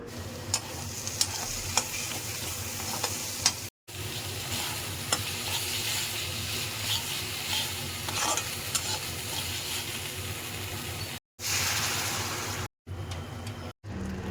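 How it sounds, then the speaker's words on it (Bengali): Hot water poured into a pan of sizzling pomfret fish curry masala, giving a steady, loud hiss and bubbling sizzle with scattered small clicks, broken by a few brief silent gaps. "এখন আমি এটার মধ্যে গরম জল ঢেলে দিব।"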